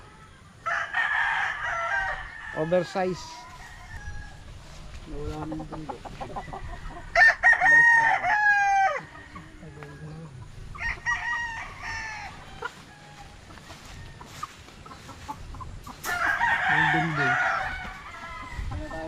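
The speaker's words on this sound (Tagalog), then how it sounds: "Yan, laking manok nito." Gamefowl roosters crow repeatedly at a gamefarm, several loud cock-a-doodle-doo calls spread across the scene along with some clucking, while someone speaks intermittently between them.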